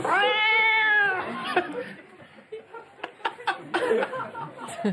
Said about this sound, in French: Je suis le chat de la voisine.